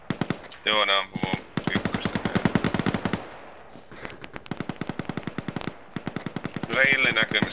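Rapid bursts of automatic and single-shot gunfire from the military video game Arma, repeated volleys crackling in close succession, with brief radio-like voices cutting in at the start and end.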